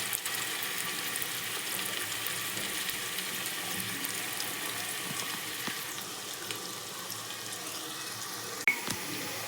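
Onion and garlic sizzle steadily in a hot pan at home for a chicken curry, a constant hissing fry that runs unbroken with a small clink near the end.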